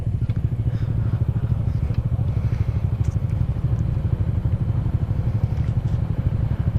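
An older Yamaha Aerox scooter engine runs with a steady, low, buzzing drone and a fast throb, close and continuous, with faint clatter on top.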